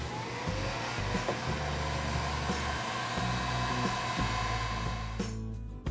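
Heat gun blowing steadily while shrinking clear heat shrink tubing over a wire label on a Polaris Ranger EV light bar wiring job, a loud, close, continuous airy roar that cuts off at the end.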